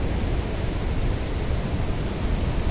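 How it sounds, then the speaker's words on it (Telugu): Ocean waves roll onto a beach on the Konkan coast of Maharashtra, making a loud, steady, close wash of surf that fills the whole stretch without a break. "ఇప్పుడు చూడండి చాలా వేవ్స్ వస్తున్నాయి."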